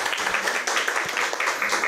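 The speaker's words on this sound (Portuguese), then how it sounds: "Mais uma vez um aplauso para eles" An audience applauds the authors at a journal launch event, a steady dense patter of clapping lasting throughout at moderate volume with no talk over it.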